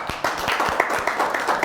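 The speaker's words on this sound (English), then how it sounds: "please give a round of applause for Henry" Audience applause at a local evening tech meetup after a talk, a short burst of many hands clapping in an irregular patter, fairly close and steady throughout.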